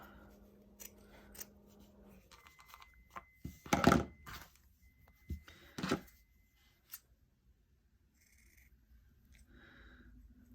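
Scissors snip through felt appliqué pieces for a Halloween street sign craft kit, a few crisp close cuts clustered in the middle with soft rustling of the material before and after.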